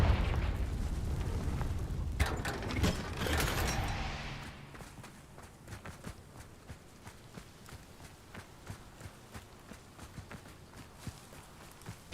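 Confringo blast spells going off in Hogwarts Legacy: a cluster of loud bursts early on, then a long tail of faint, scattered pops and crackles fading into the background.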